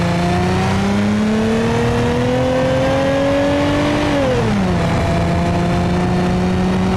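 A 3.2-liter V6 police cruiser engine in BeamNG.drive revs steadily upward for about four seconds, then drops off and settles into a lower sustained drone, loud and close with no talking.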